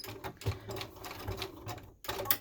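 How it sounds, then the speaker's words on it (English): Home sewing machine back stitching to lock a seam at the end of a cotton scrub hat tie, a short burst of fast, close mechanical whirring and clatter that pauses briefly before resuming. "I'm going to back stitch just to lock it in place"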